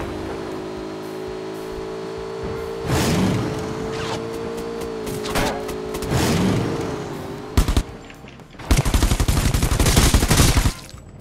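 Gunfire from the battle royale video game Rules of Survival: a steady engine drone underlies several bursts of shots, then a dense, loud rapid volley near the end, with no talking.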